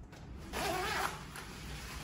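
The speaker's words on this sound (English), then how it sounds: "then I will show you when I zip" A Stussy Dragon Sherpa jacket being zipped up, one quick close zip lasting about half a second amid quiet room tone.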